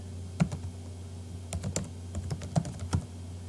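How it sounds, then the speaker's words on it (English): Light, irregular keystrokes tap on a computer keyboard as a username is typed, a sparse cluster of quiet clicks over a faint steady hum. "So now you have to type in your username"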